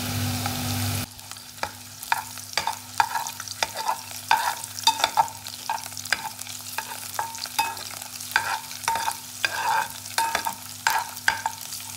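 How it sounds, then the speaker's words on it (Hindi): Chopped ginger and garlic sauté in a hot pan for chilli chicken, with a steady sizzle broken by frequent sharp scrapes and taps of a spatula stirring, close and fairly loud, with no voices. "अब मैं इसके अंदर अदरक लहसुन चॉप डाल दूंगी और इसको हम तब तक सॉटे करेंगे जब तक इसकी स्मेल नहीं आ जाएगी"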